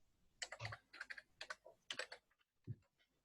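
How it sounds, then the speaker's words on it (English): Quick bursts of keystrokes on a computer keyboard during a call, clustered clicks at an uneven typing rhythm, close and fairly quiet, with no talking. "I'm just typing it into the chat now"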